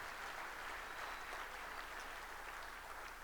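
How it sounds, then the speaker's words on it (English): Audience applause fills a hall at a 25th anniversary Black Woods Blizzard Tour event, a steady, dense clapping held at an even level throughout, with no voices standing out. "give yourselves a round of applause for all the great work you've done again in the past 12 months"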